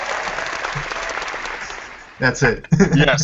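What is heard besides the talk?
applause welcoming a podcast guest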